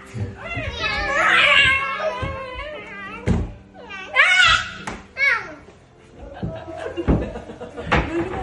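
A child imitates a cat with high, wavering meows among other children's voices and chatter, with occasional thumps and knocks nearby.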